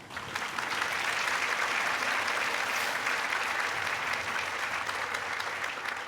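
A studio audience at a Thai televised singing contest claps in sustained applause, building quickly and then holding a full, even roar with no talking.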